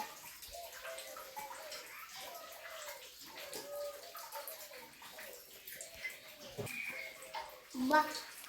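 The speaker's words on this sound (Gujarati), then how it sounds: "આ 12 મહિના પાણી ટપકે છે।" Water trickles in a steady, unbroken stream at the Jariya Mahadev temple Shiva lingam, a soft continuous gurgle heard under people talking nearby.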